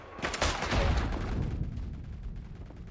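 Gunfire in the World War I shooter game Isonzo, a dense burst of overlapping rifle and artillery shots that swells early, then rumbles and fades into a steady battlefield din.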